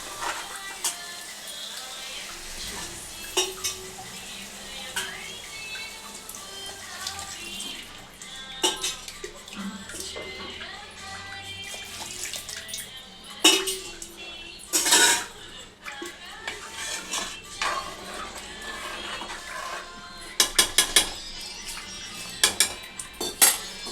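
A utensil clinks and scrapes against a metal pot in irregular bursts as chicken and cowpea curry is stirred, with occasional speech and a faint watery sound.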